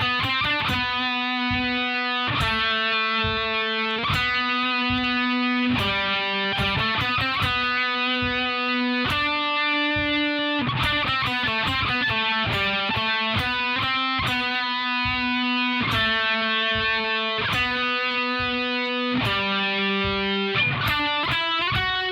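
A clean guitar plays a single-note exercise, with clear picked notes in short repeating phrases and shifting pitches, played alone and evenly loud.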